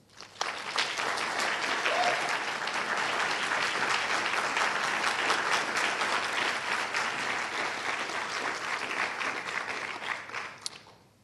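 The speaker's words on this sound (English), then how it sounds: "Can we get a round of applause, please?" Sustained audience applause following a congressional debate, a dense steady wash of clapping that swells quickly, holds for about ten seconds and tapers off at the end.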